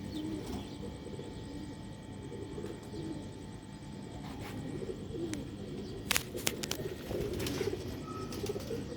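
Sialkoti pigeons coo softly in a low, continuous murmur at a pigeon loft, with a few sharper clicks and flutters near the end.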